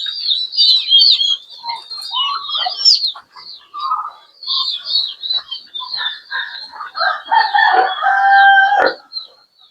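A rooster crows repeatedly at close range on a poultry farm with ducks, with shrill bursts and clucking from other fowl mixed in and no talking.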